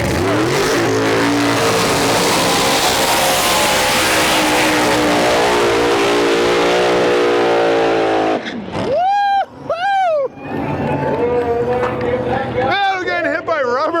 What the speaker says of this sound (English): We got the Nova versus the dragstrip.